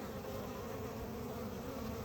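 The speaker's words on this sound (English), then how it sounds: "This is the sound of mostly very happy bees." A dense, steady drone of many bees buzzing together up close, continuous and even, with no other sounds.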